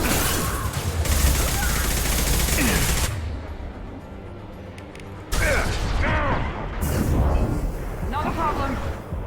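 Gunfire in the video game Mass Effect 2, dense bursts of rapid shots and mechanical clatter, loud and close, broken by a quieter stretch, with in-game voices speaking over parts of it.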